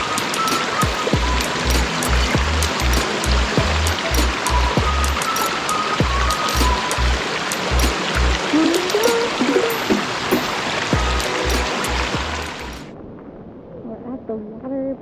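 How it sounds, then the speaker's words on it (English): Broad steady rush of water from Amicalola Falls, a mountain waterfall seen from a hiking trail, filling the scene loudly, with rhythmic low thumps and people talking over it before the roar drops away near the end. "There's the falls right there."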